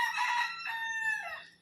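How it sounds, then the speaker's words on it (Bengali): A rooster crows close by in a single long, loud, drawn-out call that rises and then trails off, with no other sounds around it. "আর ওইদিকে মোরগটা ডাকছে।"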